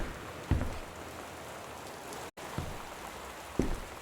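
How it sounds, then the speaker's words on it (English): Rain falls outdoors as a continuous soft hiss, broken by a few close dull thumps and a brief dropout. "This rain sounds weird."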